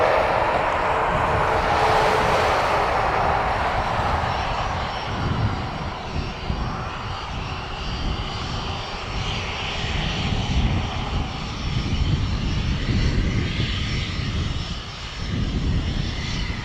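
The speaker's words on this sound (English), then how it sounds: "Citation Mustang, going to be heading to Antwerp." Cessna Citation Mustang business jet at Dublin Airport, a continuous loud roar of jet engines with a broad rushing tone that holds steady throughout, heard outdoors from the airfield.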